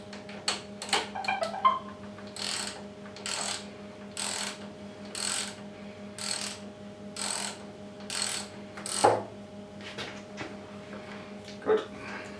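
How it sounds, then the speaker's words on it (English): A ratchet driver tightening a bolt on the front fork of a Triumph Bonneville T140 motorcycle, a close series of regular rasping ratchet strokes in a steady back-and-forth rhythm over a faint low hum. "So I'll just get my ratchet driver to tighten that down"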